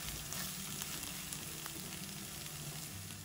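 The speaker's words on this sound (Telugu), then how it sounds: "ఇలా మధ్య మధ్యలో కలుపుకుంటూ దీన్ని వేయించుకోవాలి" Ivy gourd and onion curry fries in a pan with a faint, continuous sizzle and light intermittent stirring, quiet and steady with no talking.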